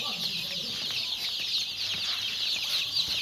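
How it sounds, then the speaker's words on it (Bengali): Chickens cluck in a continuous, busy chorus, fairly close and loud, with faint rustling underneath. "এই যে কিছু কিছু মুরগি দেখা যাচ্ছে"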